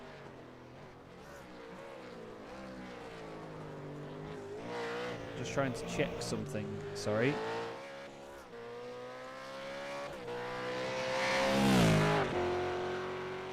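Supercar engines rev and whine continuously, rising and falling in pitch, with a brief voice speaking over the engine noise; a sim racing video game race at Montreal.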